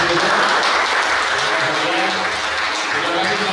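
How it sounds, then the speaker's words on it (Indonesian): Dense applause fills a crowded factory visit for union members, steady and loud throughout, with a voice speaking over the clapping. "Tepuk tangan buat teman-teman Surya Wisesa."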